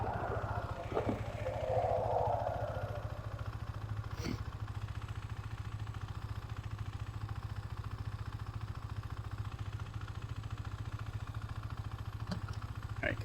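A 2021 KTM Duke 390 idles steadily at a traffic light with a low, even engine hum throughout, broken by a short burst of higher noise near the start and a few faint knocks.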